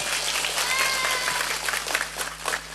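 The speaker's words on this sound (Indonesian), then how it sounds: "tepuk tangan dulu dong" An audience claps loudly and densely at a Ramadan night religious gathering, a continuous wash of applause from a large crowd with a faint voice underneath.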